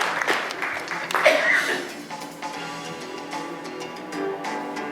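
Banquet audience applauding at a chamber of commerce dinner, a dense clapping wash that swells early and then settles into steady applause with sustained tones underneath.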